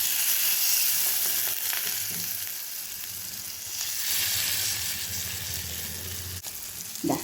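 Paneer pieces fry in a hot pan with a steady, close sizzle and crackle that swells and eases, with a few soft clinks from turning the pieces and no one speaking.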